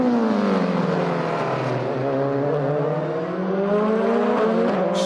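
Mercedes-Benz DTM touring race cars from the 2004 season battle closely, one pressing hard behind another: a loud, continuous engine roar with pitch rising and falling through gear changes, no voices.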